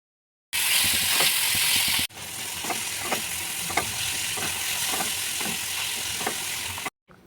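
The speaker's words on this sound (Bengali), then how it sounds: "খুব ভালো করে কাসুরি মেথিগুলো পেঁয়াজ আর ক্যাপসিকামের মধ্যে মিশিয়ে নিতে হবে" Onion and capsicum stir-fried with kasuri methi make a loud, continuous sizzle in the pan, broken by a series of soft spatula scrapes and taps at a loose, steady pace.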